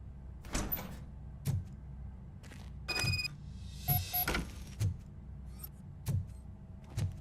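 A heavy door opens in the RoboCop: Rogue City game, a series of mechanical clunks and thuds spaced about a second apart over a low hum, with a brief ringing electronic chime partway through.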